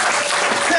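A church congregation applauding during a worship service, a loud, dense burst of clapping filling the whole brief moment.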